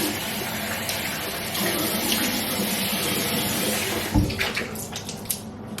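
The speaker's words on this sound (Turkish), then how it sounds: "Bir de şöyle bir yüzümü foşur foşur yıkayayım." A tap runs steadily while a face is washed with water during a skincare routine, a close, continuous gush with a few louder splashes near the end as the water is scooped to the face.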